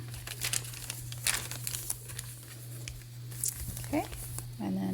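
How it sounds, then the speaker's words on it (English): Ledger paper in a softcover faux leather junk journal being unfolded, soft crinkling and rustling paper handling in short bursts over a steady low hum, with a brief voice near the end. "I have some ledger paper that folds out."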